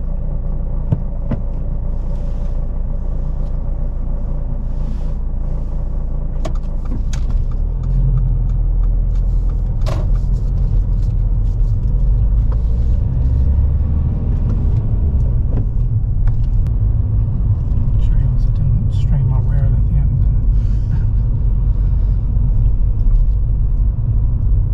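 A car pulls away on a UK driving test, its engine rumbling steadily from inside the cabin as it picks up speed, with a few faint clicks and knocks and no talking.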